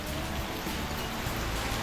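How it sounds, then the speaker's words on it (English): Steady rain on a Thai farm, a dense even hiss of falling drops throughout with no voices. "hopefully, the rain's slowing down"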